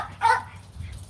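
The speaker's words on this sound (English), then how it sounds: "Sorry about that, my dogs are barking." A dog gives a single short bark close by, with a fainter yip shortly after, against a quiet indoor background.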